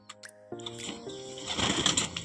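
Racing pigeon arriving back from a training flight in Carranglan, Nueva Ecija, with soft cooing and a brief flutter of wings, close and quiet, alone without talk.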